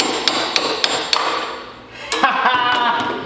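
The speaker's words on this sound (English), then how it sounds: "really hit with a hammer" A hammer strikes a V-band exhaust clamp on an Audi R8 during an exhaust install in a garage. There are several sharp metallic whacks, four in quick succession and then two or three more, close and loud, with no talk.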